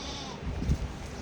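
A goat on a Wisconsin farm bleats once, loud and close, in a short wavering call over steady background noise.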